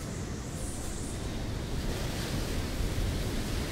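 Ocean waves and gusting wind in Assassin's Creed III form a steady broad roar of surf and air, continuous and fairly loud with no voices.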